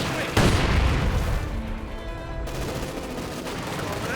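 Gunfire and a grenade blast in the real-time strategy game Company of Heroes 2: a sharp explosion hits early, then dense bursts of shots and rumbling booms continue, with a commentator's voice talking over the battle.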